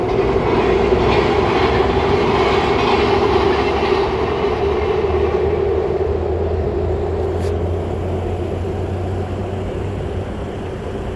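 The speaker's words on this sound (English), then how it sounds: "here comes a gold line train" A MARTA Gold Line light rail train rolls past nearby at West End station in Atlanta, with a loud, steady rumble and rattling wheels, slowly fading a little as it moves on.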